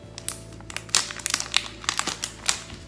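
Thin plastic packaging around a lavalier microphone is torn and crinkled by hand up close, a busy run of sharp crackles and rustles over about three seconds with no talk.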